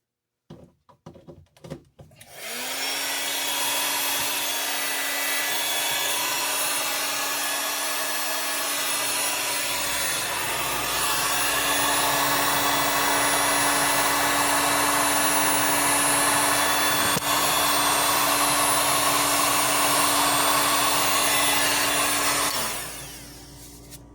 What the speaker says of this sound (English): Get to try out my new heat gun for the first time.